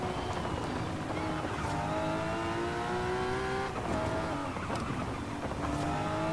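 In the Forza Horizon video game, a rally car engine with an anti-lag system revs and holds steady at around 2,000 to 3,000 rpm, a droning, rising whine with brief popping bursts, fairly quiet throughout.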